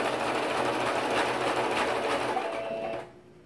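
Sewing machine stitching a zigzag seam on a pencil case, a loud continuous close whir that stops abruptly near the end.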